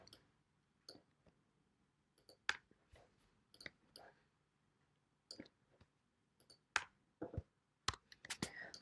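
Quiet computer keyboard and mouse clicks while modelling a headband in Maya 2018, scattered single clicks and short bursts separated by near silence, close and soft.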